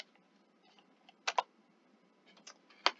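Keys on a computer keyboard are tapped in a few quick, sharp clusters separated by quiet gaps, close and fairly soft against a hushed room.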